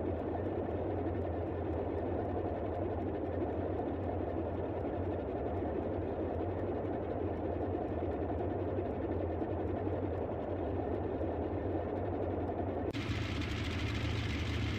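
Boeing 247D radial engines in Microsoft Flight Simulator 2020, a steady, droning low rumble with a continuous hum throughout, a brighter layer joining near the end.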